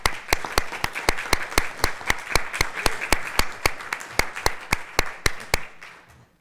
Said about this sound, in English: I give you a round of applause because that's awesome.